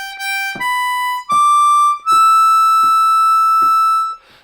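Harmonica melody phrase of Auld Lang Syne on a G harmonica, opening on the 8 blow hole: a handful of clear sustained notes rising stepwise, each separated by a short breathy attack, played solo and close with no talk.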